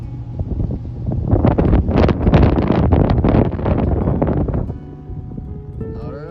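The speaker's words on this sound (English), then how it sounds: "It's windy today though, it's really windy." Strong wind gusts roar outdoors among trees, a loud sustained rush with buffeting against the microphone that builds, peaks in the middle, then eases off near the end.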